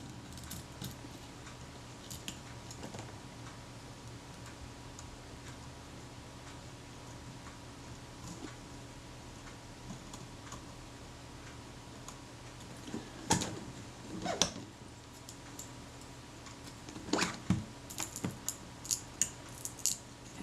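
Adhesive crackling as leatherette covering is peeled from the metal body of a Kodak Retina IIIc camera, faint scattered ticks that build into denser crackly bursts near the end over a quiet room hum.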